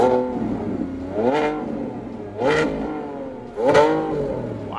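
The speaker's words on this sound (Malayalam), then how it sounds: "എക്സോസ്റ്റ് നോട്ട് നിങ്ങളിപ്പോൾ കേട്ട് കാണും" A Lamborghini Revuelto's V12 engine revs hard three times in succession, each exhaust blip rising sharply and falling back to a burbling idle between.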